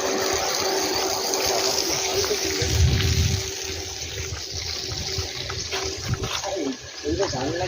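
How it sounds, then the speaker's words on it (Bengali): A machine pumps water up through a pipe outdoors in Sonarpur, West Bengal, giving a steady rushing, splashing flow with a low rumble, mixed with ambient outdoor noise, and some talk is heard. "মেশিনের দ্বারা পাইপ থেকে জল তুলছে।"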